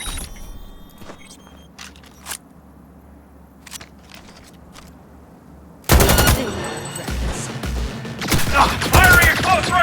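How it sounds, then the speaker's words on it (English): Gunfire in Cyberpunk 2077 erupts suddenly after quiet ambient clicks and small noises, turning into loud, dense close-range bursts of automatic fire that carry to the end. "Firing at close range!"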